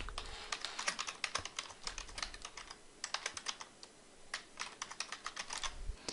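Quick, irregular clicking of keys on a computer keyboard, close by and crisp, with short pauses between bursts of typing.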